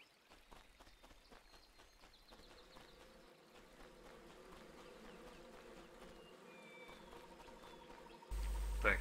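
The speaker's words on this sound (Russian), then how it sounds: "Так, я опять слышу пчелу," A bee buzzes in a forest area of the action role-playing game Titan Quest Ragnarok, a thin, steady droning hum that carries quietly throughout before a sudden louder burst of noise at the very end.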